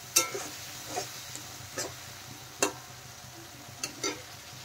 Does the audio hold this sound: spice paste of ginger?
yes